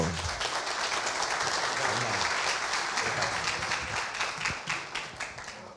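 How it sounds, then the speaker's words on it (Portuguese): Steady applause from a seminar audience on basic sanitation in Brazil, a dense wash of many hands clapping that holds firm before thinning slightly toward the end. "Receba com a salva de palmas o nosso amigo Josivan Cardoso."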